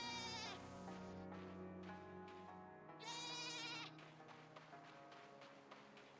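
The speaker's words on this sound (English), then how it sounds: "there's a really loud sheep somewhere" A sheep in the Reka demo game, a witch-hut building game, bleats loudly and close by in two long wavering calls, separated by softer rhythmic tapping and rustling, with steady harmonic game ambience underneath.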